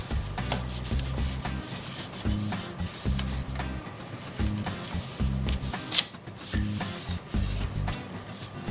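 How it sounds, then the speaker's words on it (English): Close, repetitive rubbing as a damp cloth wipes down a wooden surface before chalk painting, with rhythmic back-and-forth strokes and occasional soft knocks, no voices. "now I'm taking a damp cloth and I'm wiping it off"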